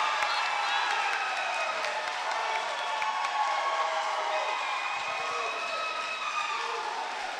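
A crowd at a wrestling dual meet cheers after a pin, a broad, steady roar of voices and clapping that holds at a constant level, with a commentator talking over it.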